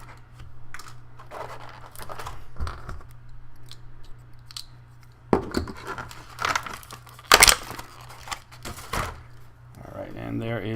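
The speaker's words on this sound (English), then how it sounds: "As I continue to cut away the tape holding these away from would-be criminals." Packaging tape being cut away from a GI Joe Retaliation Tactical Ninja Team toy set, giving scattered close snips, scratches and crunchy plastic rustles at irregular intervals, with a few louder bursts.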